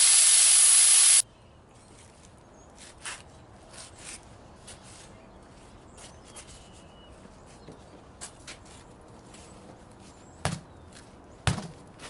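Air blasts out of a truck tire as the valve core is pulled, a loud hiss lasting about a second that cuts off abruptly and is followed by quiet with a couple of faint knocks.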